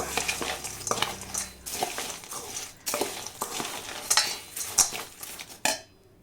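Poha snack mixture being stirred with salt and chili powder: a spoon scrapes and clatters against a metal pan in repeated strokes, with dry rustling of the flakes and occasional sharp clinks.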